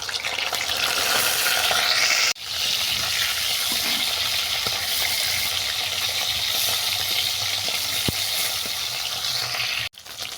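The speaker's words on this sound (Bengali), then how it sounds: "এরপর কড়াইতে সর্ষে তেল দিয়ে চিকেনটাকে আমি ভেজে নেবো" Chicken frying in mustard oil in a wok gives a loud, steady sizzle and crackle for about ten seconds, broken by two brief drops to quiet, with no voices.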